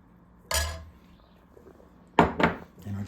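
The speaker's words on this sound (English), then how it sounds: "We're just going to get a small scoop of this for now." A spoon scoops slow cooker chicken chile in two or three short bursts of clinking and scraping against the pot, close and fairly quiet with brief pauses between.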